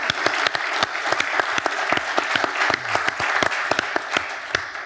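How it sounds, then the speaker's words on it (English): A business club audience in Boston gives a round of applause, loud and close, with dense clapping and individual sharp claps standing out throughout. "let's give Warren a round of applause"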